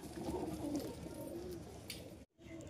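A male pigeon coos in low, soft, rolling calls, close by and fairly quiet, repeating over a faint background before a brief gap.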